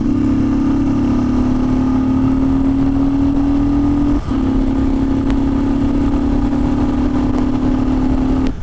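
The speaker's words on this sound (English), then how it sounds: "In the first gear the bike literally takes off." A 2018 Royal Enfield Thunderbird 500X motorcycle pulls away in first gear, its single-cylinder engine giving a loud, steady thumping drone that rises slightly with a brief dip midway, heard up close with no talk.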